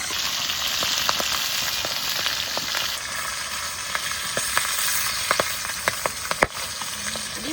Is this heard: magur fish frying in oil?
yes